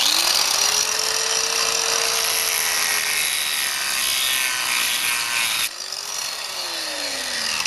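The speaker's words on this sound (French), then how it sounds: "un petit coup de meuleuse, de disqueuse comme ça" An angle grinder cuts a groove into a pebble with a loud, harsh grinding hiss and a wavering motor whine, pausing briefly near the end before biting again, close and alone.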